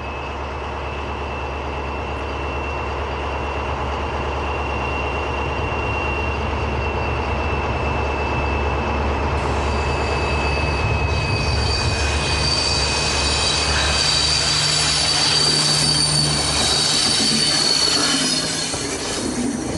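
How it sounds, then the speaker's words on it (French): Train on the Alps line rolling into the station area with a steady low rumble of wheels on rails and a persistent high wheel squeal that grows louder and brighter partway through, with no talk. "Après avoir parcouru toute la boucle, le convoi de sens pair aborde à son tour la zone de gare."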